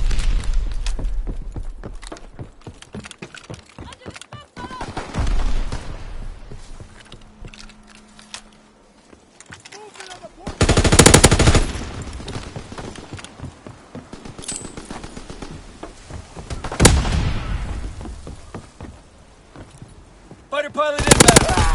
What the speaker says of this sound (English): Strafing the target.